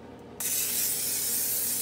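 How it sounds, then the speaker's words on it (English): After a brief quiet moment, an aerosol can of cooking spray lets out a steady, close hissing spray into a baking dish that continues to the end. "just going to use a little bit of cooking spray to make sure nothing sticks around the edges"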